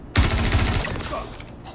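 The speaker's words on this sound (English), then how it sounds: "And yes, you can shoot through these cracks." Gunfire in the Star Citizen video game: a sudden, loud, rapid burst of automatic shots rattling for about a second, then a fading reverberant tail.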